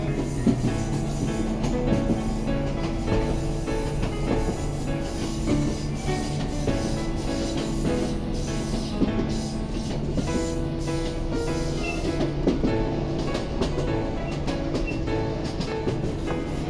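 A Class 156 diesel train runs on the scenic West Highland line from Glasgow to Fort William. The engine gives a steady, even drone with a low rumble throughout, and nobody speaks.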